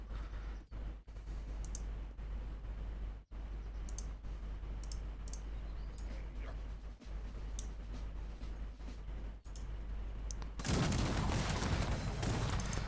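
Artillery fires in the strategy game Cossacks 3, with irregular sharp booms and clicks over a low rumbling battle bed, and a denser burst of noise near the end.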